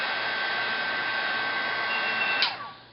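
A heat gun blows steadily while melting embossing powder for a second coat, a loud even whooshing whine that cuts off near the end.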